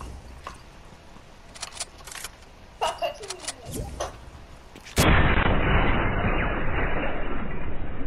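Gunfire in a Fortnite gun game match on a desert map: scattered sharp shots and impacts, then a sudden wall of loud, dense noise, with players talking over it.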